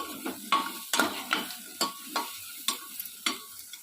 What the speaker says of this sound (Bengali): এখন আমি আলু আর গাজরটা দিয়ে দেব তোমরা এই সময় যদি অন্য সবজি দাও তাহলে সেটাও দিয়ে দেবে এই সময় আমি নাড়াচাড়া করব